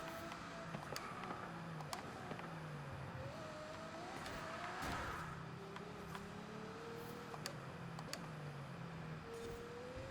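A Ferrari Monza SP2 drives a lap in Forza Horizon 5, its engine droning steadily with rising and falling pitch as it shifts through gears, heard from onboard at a constant level.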